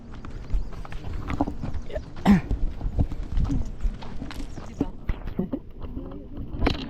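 Horse hooves clip-clop steadily on a horseback ride in Ilocos near the Kapurpurawan Rock Formation, irregular close thuds of walking hooves heard under people chatting throughout.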